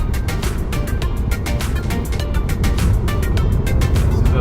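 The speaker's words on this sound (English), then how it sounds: "This is a lovely drive" A Kia Niro plug-in hybrid drives on the road, its steady interior hum of road and tyre noise rumbling continuously and fairly loud throughout.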